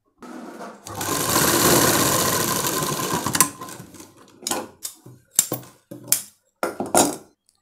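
A sewing machine stitches lehenga fabric, running in one long continuous burst and then in several short, sharp runs separated by pauses, all close and clear.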